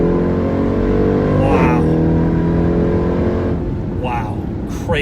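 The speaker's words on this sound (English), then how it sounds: "the supercharger whine is incredible" Supercharged Jeep Grand Cherokee Trackhawk SUV accelerating hard, a loud sustained engine roar with a rising whine sweeping upward through the run, a brief gear-change dip midway, and a voice speaking over it.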